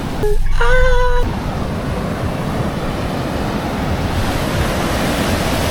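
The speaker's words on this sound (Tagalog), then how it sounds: "Lakas ng alon, oh." Strong ocean surf roars steadily and close, a continuous broad wash of breaking waves with wind buffeting the microphone; a brief tonal sound rings out at the very start.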